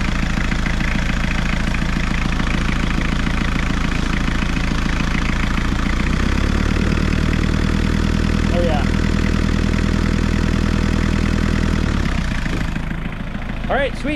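An Isuzu diesel engine swapped into a Suzuki Samurai runs at a loud, steady idle with a rough clattering rhythm, settling slightly lower partway through before a brief change near the end.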